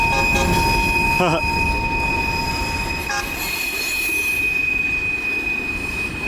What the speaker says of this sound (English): Over 10-minute train, wow.